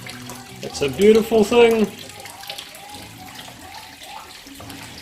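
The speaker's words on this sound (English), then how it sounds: "Kind of sounds like one of those Japanese garden fountains" A tap runs water during home brewing, a low steady splash and trickle under a short spoken remark near the start, then continuing softly on its own.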